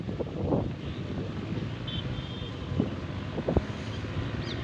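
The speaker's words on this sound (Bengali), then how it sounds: "এত সুন্দর রিমঝিম বাতাস দেখেন" Steady breeze on a farm in Pabna under a cloudy sky rushes and buffets the microphone with a continuous broadband roar, broken by a few brief thumps and gusts.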